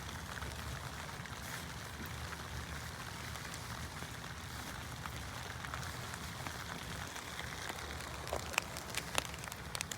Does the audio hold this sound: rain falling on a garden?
yes